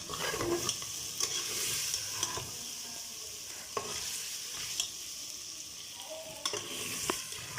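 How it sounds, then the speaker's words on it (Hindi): Mutton pieces for namkeen gosht sizzle and fry in a pan, a steady crackling hiss of hot fat with occasional sharp pops and stirring scrapes throughout. "ये कितने अच्छे तरीके से फ्राई हो गई हैं और नीचे से चर्बी भी सारी ख़त्म हो गई है"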